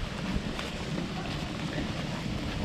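A maple syrup evaporator boils steadily with its fan switched off, giving a dense, close, continuous roar and bubbling rumble with no one speaking.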